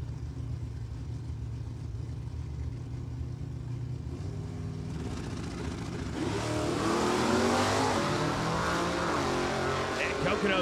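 Drag racing at an NHRA event, with a stock automatic 1996 Chevy S10 truck and a 1969 Camaro; a steady engine drone swells into a louder revving roar halfway through, heard under crowd and announcer noise.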